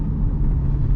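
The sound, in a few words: Lamborghini engine revving as it passes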